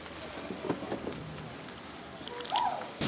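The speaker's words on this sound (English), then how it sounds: "the rain has just started" Rain falls at the base of Reggae Falls, a river dam cascade in St. Thomas, Jamaica, a faint steady hiss of drops with scattered soft patters and a brief louder burst near the end, with no talking.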